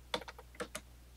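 Quick typing on a computer keyboard while entering a pip install command, a short burst of about six crisp keystrokes in irregular rhythm, close and fairly quiet.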